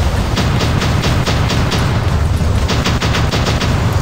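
Robot weapons in the War Robots game fire in rapid bursts, a loud, dense stream of shots and booms with steady rhythmic cracks and a heavy low rumble, with no voices.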